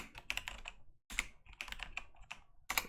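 Rapid typing on a computer keyboard during a live day-trading session, close and crisp bursts of clustered keystrokes broken by a brief pause.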